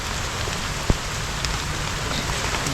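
Heavy rain pattering steadily on surfaces outdoors, a dense continuous hiss with one sharp knock partway through, no voices.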